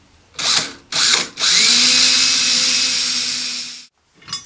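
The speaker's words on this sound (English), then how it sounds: "I'm going to use a pilot bit to get it started so that we can maintain that accuracy." A power drill with a pilot bit bores holes into a telescope mirror box on an Explorer Scientific truss Dobsonian, giving two short close bursts and then one long steady whine before it stops, with a brief final spin after.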